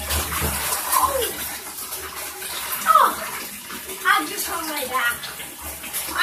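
Tap water pours steadily into a bathtub being filled for a child's bath, a continuous splashing rush with a voice and faint talk mixed in.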